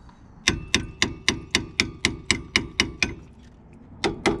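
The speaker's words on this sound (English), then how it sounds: "Hammer on it." Steady metallic hammer blows on a stuck brake caliper of a Mitsubishi L200 Triton, about a dozen evenly spaced strikes, then a short pause and two more hits, loud and close with no talking.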